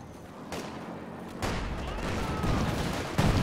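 Artillery shells exploding in a multiplayer strategy war game, several close bursts and rumbling blasts over continuous battle noise.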